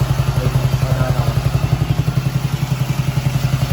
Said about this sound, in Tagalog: umaandar yung motor, napaka-stable